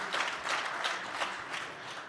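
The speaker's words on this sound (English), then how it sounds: "So one last round of applause for our Stewards Club inductees." Audience applause for Stewards Club inductees at the ETHDenver 2024 conference, a steady patter of many hands clapping at moderate loudness with no talk.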